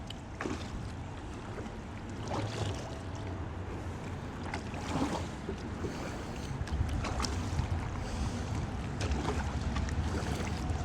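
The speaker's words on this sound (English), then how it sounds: "I'm paddling right into the wind" Kayak paddling into the wind under the Goethals Bridge near the Staten Island ship graveyard: steady wind buffeting the microphone and water noise, with intermittent soft paddle splashes and strokes.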